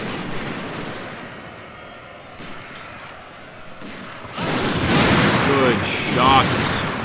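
Massed musket volleys from riflemen firing on spear levies in a Shogun 2 Fall of the Samurai battle crackle over distant battle noise, with a loud burst of overlapping shots swelling in the second half.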